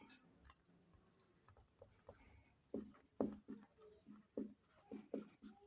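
Pen writing an answer on paper during a maths lesson, soft intermittent scratches and taps in short strokes, quiet and close with no talk.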